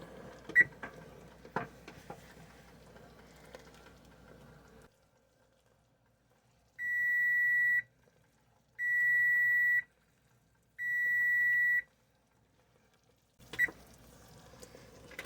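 A kitchen timer beeps three times, evenly spaced long tones that are clear and fairly loud, set between quieter stretches of kitchen clatter and bubbling from jelly-making on the stove.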